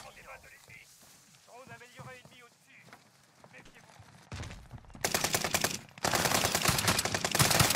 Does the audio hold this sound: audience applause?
no